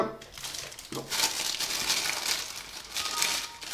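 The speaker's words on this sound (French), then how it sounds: "Désolé pour le bruit de papier." Paper crinkles and crumples continuously, close up and fairly loud, as a boxed Umi Z smartphone is unpacked, with a few brief light knocks early on.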